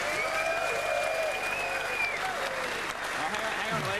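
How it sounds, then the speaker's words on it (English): Studio audience applause for the panel on a motorsport TV show, a broad, steady clapping wash under talk and a drawn-out voice, holding level for the whole stretch. "Big round of applause for the boys."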